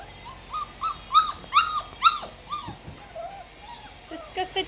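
Several puppies whimper and cry in high, wavering yips and whines, close and insistent, in repeated bursts while people talk softly nearby.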